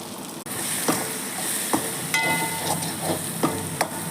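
Steady sizzling of onions and tomatoes with turmeric frying in a pan for potato gravy, with occasional clinks and scrapes of a spoon stirring through it.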